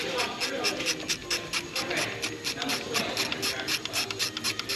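A ratchet wrench clicks in a fast, steady rhythm while loosening a nut on a car water pump job, close and fairly loud with light handling noise around it.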